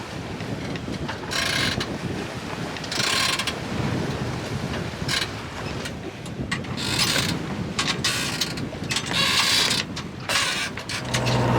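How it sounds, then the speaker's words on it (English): A strong headwind buffets a sailing catamaran at sea, the wind roaring steadily into the microphone in surging gusts, with creaking rigging and boat mechanisms beneath and no speech. "After everything we said, we got hit by a big headwind"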